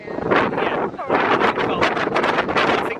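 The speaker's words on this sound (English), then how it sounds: "So Today is windy." Strong wind buffets the microphone in loud, gusty rushes, roaring continuously with brief lulls.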